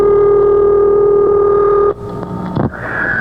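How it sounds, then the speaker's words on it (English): A steady electronic telephone tone drones loudly, then cuts off abruptly, leaving rushing noise and a few brief clatters. "The phone is ringing!"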